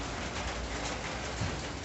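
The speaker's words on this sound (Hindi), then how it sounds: "इधर बारिश कितनी तेज आ रही है" Heavy rain pours down in a steady, dense hiss that stays even from start to finish, close and unbroken, with no voices over it.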